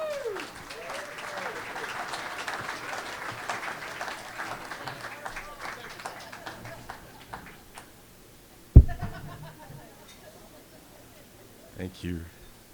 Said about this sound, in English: let's give a round of applause to Fred Tice.